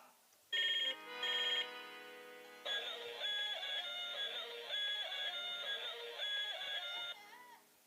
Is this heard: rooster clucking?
no